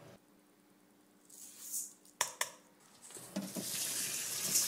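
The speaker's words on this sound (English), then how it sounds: "Now clean the rice thoroughly until the water is clear." Tap water runs while long grain white rice is rinsed in a bowl, starting faint and building to a steady, fairly close stream with a few brief knocks and splashes.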